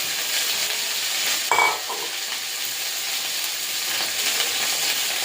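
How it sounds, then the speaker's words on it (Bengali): Steady, loud sizzling of okra frying in hot oil in a wok, with a brief clatter partway through and no voices. "এইভাবে কেটে তাড়াতাড়ি ভাজা হবে। ভেন্ডিটা দিয়ে দেবো"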